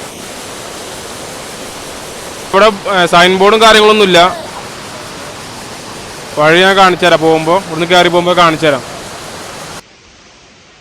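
Kampiya waterfall near Kodaikanal, with water dropping from a small height, makes a loud, steady, broadband rush throughout. Someone talks over it in two stretches, and the sound cuts off abruptly near the end.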